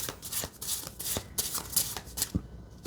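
Cards are riffled and shuffled in several quick, crisp bursts, close and fairly quiet, with no talking.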